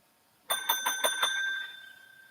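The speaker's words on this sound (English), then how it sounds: "There's the bell." A small bright bell rings in a quick series of about five ringing strikes, close and clear, its metallic tone hanging on and slowly fading after the last strike.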